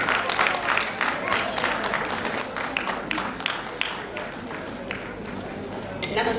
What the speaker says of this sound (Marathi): पूनम मोरे मॅम, जोरदार टाळ्या झाल्या पाहिजे.